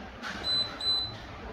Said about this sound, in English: 2 beeps.